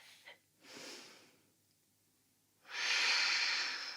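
Breathing while holding a yoga dancer pose: a short sniff, then a soft airy inhale, a quiet pause, and a stronger, sustained, breathy exhale near the microphone, with no talking.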